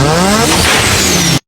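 A Wankel rotary engine screams loudly at high revs, its pitch rising in a continuous harmonic whine, then cuts off abruptly into silence.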